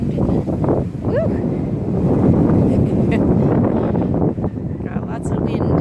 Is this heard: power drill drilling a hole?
no